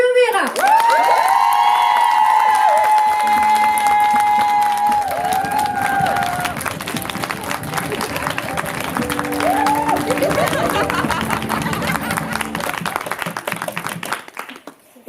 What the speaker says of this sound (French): Je vous demande d'applaudir, mais dans un tonnerre d'applaudissements, s'il vous plaît, Nelly Colomera.